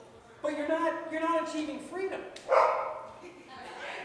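A dog barks from across an outdoor festival crowd, sharp bursts mixed with a speaker's amplified talk in a continuous, reverberant setting.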